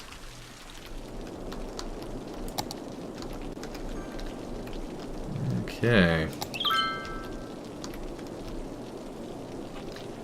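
Continuous rainfall in the city-builder Cities: Skylines, a constant mid-level hiss, briefly interrupted by a short spoken word and a few faint game chimes partway through.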